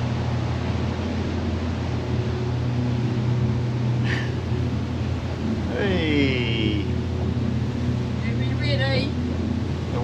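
A local pilot boat passes on flat calm water, its engine a low steady rumble under constant background noise, with people talking and brief squeaks and splashes from the wake against the hull.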